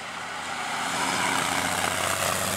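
A vintage car with a 1907 chassis and an 8.2-litre Curtiss aircraft engine roars loudly and steadily with a broad, throbbing drone that swells slightly, no talking, at the Prescott hill climb.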